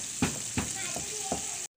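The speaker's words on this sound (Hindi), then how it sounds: "तो हम इसको स्लो में फ्राई कर रहे हैं।" Chicken pieces frying slowly in oil for a KFC-style recipe, a steady close bubbling sizzle with a few soft knocks or stirs, cutting off abruptly at the end.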